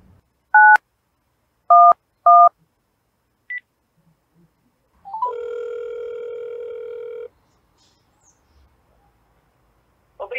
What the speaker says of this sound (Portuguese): Você pode ligar para ele de qualquer telefone e você vai ouvir assim.